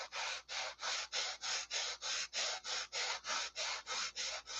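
Wooden wing ribs being sanded or cut by hand, about fifteen even back-and-forth rasping strokes in a steady rhythm, close and fairly loud, with no talk.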